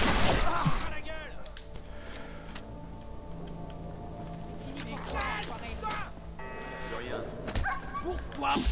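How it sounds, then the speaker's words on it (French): A dog barks in Fallout 4, short yips and woofs scattered across the scene over game noise, with people talking and reacting at points throughout. "Oh, tape pas mon chien assis, toi."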